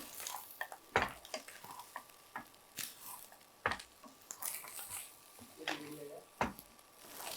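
Pepper rice with soya chunks and coriander tossed in a pan: scattered scraping, stirring and soft sizzling strokes, close and fairly quiet, with a voice speaking in between.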